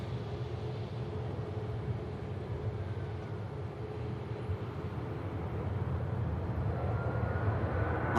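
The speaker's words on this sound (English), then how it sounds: "Oh, the 320 in. Usually in from Vienna." Airbus A320 jet arriving from Vienna at Manchester Airport, a broad steady roar of engines that slowly grows louder toward the end, distant and without voices.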